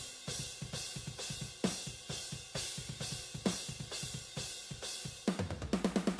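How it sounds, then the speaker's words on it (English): Unprocessed overhead microphones on a metal drum kit capture steady, rapid drum hits with bright, washing cymbals, a fast driving rhythm that shifts to quicker fills near the end, loud and alone. "And those are then fed to the overheads track, which sounds like this unprocessed."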